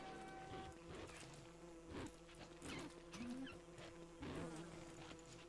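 Wasps buzz steadily in the survival video game Don't Starve Together, a continuous droning hum with periodic louder pulses and no talk over it.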